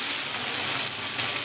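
Mixed vegetables with capsicum stirred and frying in oil, a steady close hiss of sizzling with faint shifting texture from the stirring throughout.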